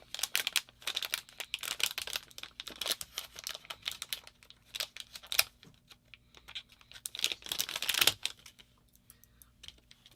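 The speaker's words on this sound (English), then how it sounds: "I'm going to try to get it out of the package" Paintball marker circuit board, a Bob Long 2K5/2K6 Intimidator board, being ripped out of tight packaging, with repeated close crinkling, tearing and crackling bursts of plastic and paper throughout, no talking.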